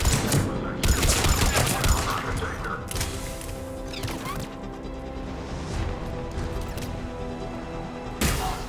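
Dense, continuous gunfire crackles at a Cerberus checkpoint in Mass Effect 3, with loud bursts and impacts under game music and shouted dialogue throughout.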